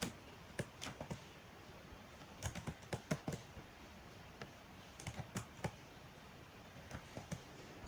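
Code is typed on a computer keyboard in a quiet, close series of irregular key clicks, tapping in small bursts with short pauses and no voices.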